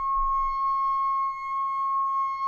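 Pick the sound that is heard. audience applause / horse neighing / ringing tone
ringing tone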